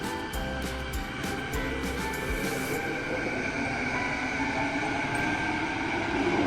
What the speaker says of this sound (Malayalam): ഇതാണ് ഇവിടുത്തെ സ്കൈ ട്രെയിൻ.